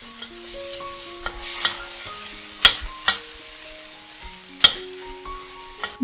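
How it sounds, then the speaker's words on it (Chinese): Tofu topping for rice stir-fried in a pan with salt, pepper and soy sauce: steady sizzling sounds under scattered sharp spatula scrapes and clacks. Faint background tones run throughout, with no voices. "加入盐、胡椒粉、 酱油炒一炒"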